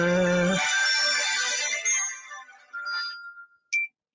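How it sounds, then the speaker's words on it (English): Phone ringtone for an incoming call, a bright electronic melody that rings close and clear and then fades out in a few short bursts, with no talking over it. "I've now got phone calls coming in and all sorts."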